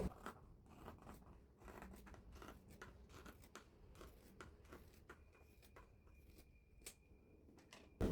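Scissors snip through apron fabric at close range, giving quiet, repeated crisp cuts at an even pace, with no talking.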